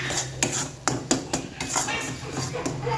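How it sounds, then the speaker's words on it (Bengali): Pea filling stirred in a pan for kachori, irregular scraping and knocking of a spoon against the metal over a low background sizzle, close and moderately loud. "এবার শুধু নেড়েই যেতে হবে, যতক্ষণ না এই জলটা শুকায় ততক্ষণ শুধু নাড়তেই হবে।"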